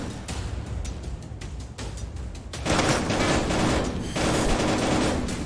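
Rapid automatic gunfire in a VR shooter game, loud and close, with dense bursts of shots that grow heavier and more continuous partway through, no talking.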